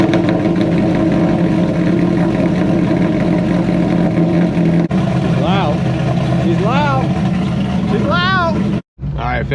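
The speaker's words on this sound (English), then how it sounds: "go ahead and get this cold start" A C5 Corvette Z06 engine runs just after a cold start in the snow, a loud, steady low idle drone with several short rising rev blips late on, then cutting out briefly.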